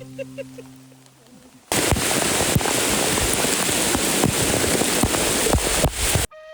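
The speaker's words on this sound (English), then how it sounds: "The trail welcomed us with an absolute downpour, just to make sure that nobody would have dry socks to start." A heavy rain downpour on a wilderness hiking trail in the Adirondacks: a dense, loud, continuous hiss with scattered sharper drops. It starts abruptly after a quieter opening and cuts off near the end.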